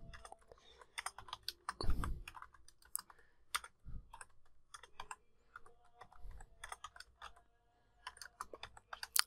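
Typing on a computer keyboard while entering Urdu text in Adobe InDesign CC 2021: close, irregular bursts of light key clicks with brief pauses and a few heavier thumps, heard alone with no talk.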